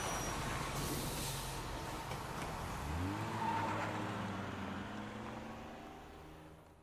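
A bus drives along a road in the video game Road 96, a steady engine hum with a rising, shifting drone as it moves, fairly even in volume and alone without talk.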